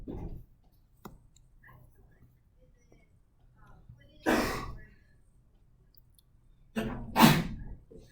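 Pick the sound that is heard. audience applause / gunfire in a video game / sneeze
sneeze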